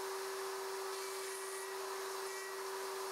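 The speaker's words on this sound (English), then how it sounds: "The socket boards are routed in the same sequence as the tail boards" A router running steadily while cutting 3/32-inch box joints with a Leigh RTJ400 jig: a continuous, even high whine with no breaks, no talk.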